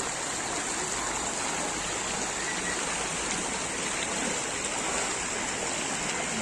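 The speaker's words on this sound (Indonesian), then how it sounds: "Banjir. Paling parah nih kawan." Floodwater after heavy rain, chest-deep on an adult, rushes in a continuous broadband roar that stays steady and fairly close throughout, with no voices over it.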